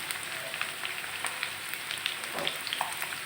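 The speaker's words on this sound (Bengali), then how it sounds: "এখন আমি দিয়ে দিলাম অল্প একটু আদা রসুন বাটা" Ginger-garlic paste sizzles in hot oil for a pumpkin stir-fry, a steady close crackle of frying with scattered sharp pops and no talking.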